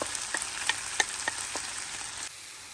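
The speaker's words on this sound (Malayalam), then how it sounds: "ഞാൻ ഇത് ചേരുവകളെല്ലാം ചേർത്ത് നമുക്കൊന്ന് ഇളക്കിയെടുക്കാം." Banana stem stir fry with crushed coconut stirred in a pan, broad frying hiss with a series of distinct spatula scrapes and taps, close and steady, ending abruptly when the sizzle drops away.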